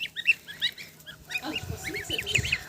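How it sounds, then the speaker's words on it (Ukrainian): Geese grazing in a yard honk in a busy overlapping chorus, several birds calling near and clear, a little denser toward the end. "Пасуться, ну то ж гуси то ж."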